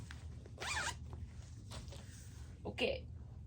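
A zipper on a fiber project bag with small zipper pulls, used to hold cross-stitch supplies, is pulled in two quick near rasps, one early and one late, over a low background hum.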